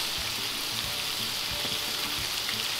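Mixed seafood of shrimp, tahong mussels and white clams hits a pan for a coconut milk dish, giving a steady close hiss of frying with a few soft thumps underneath.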